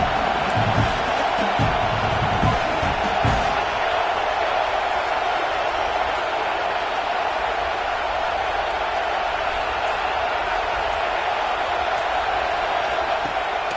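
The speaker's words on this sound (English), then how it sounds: "Here comes this home crowd as the defense tries to get off the field on third down." Home crowd at a football game roaring steadily as the defense faces third down, a dense continuous wash of stadium cheering throughout, with announcer talk underneath.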